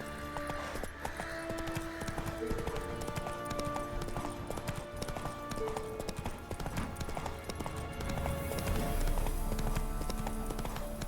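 Horse hooves clip-clop steadily at a gallop across a landscape in The Witcher 3, riding Roach, with game music and ambient sound layered underneath throughout.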